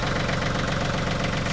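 A tractor engine idles at a steady, close, even rumble with a slight knocking pulse, parked by lifted concrete slabs, with no talking over it.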